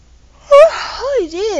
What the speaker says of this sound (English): longest yawn